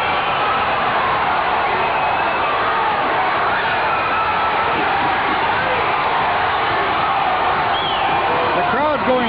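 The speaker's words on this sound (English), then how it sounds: "The crowd's going wild behind us." A boxing crowd at a 1996 Canadian title fight roars and cheers wildly in a continuous dense wash of noise, with excited commentators talking over it.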